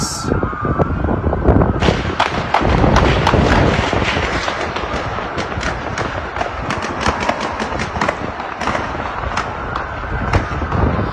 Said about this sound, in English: Seems like there is an active shooter out here.